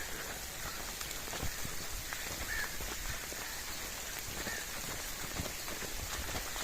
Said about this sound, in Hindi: ये देखें बारिश जो है ना काफ़ी ज़्यादा तेज़ हो चुकी है